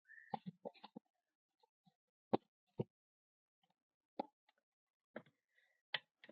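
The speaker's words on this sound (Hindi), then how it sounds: "थोड़े से चने मैंने यहाँ भी बचा कर रखे थे, इसको भी मैं इसी में डाल देती हूँ।" Leftover chickpeas are dropped into a pot of salted, turmeric-tinted water on a gas stove, giving a few sharp, quiet plops and ticks, spaced apart and separated by near silence.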